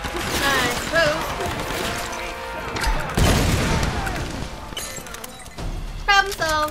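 Grenade launcher in the video game Tomb Raider firing, then detonating in a heavy booming blast with crashing debris, set among game noise and music, with a voice talking over part of it.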